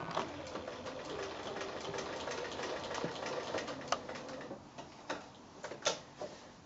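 Sewing machine fitted with a walking foot stitching through layered quilt top, batting and backing, a quiet rapid ticking mechanical whir with a few sharper clicks and knocks near the end, no talking.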